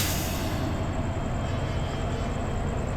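Train pulling out of Natore railway station, likely the Simanta Express, a steady loud rumble of rolling stock close by with no talk.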